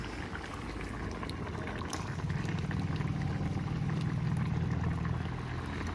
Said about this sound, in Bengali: টকবক করে তো ফুটেই গেছে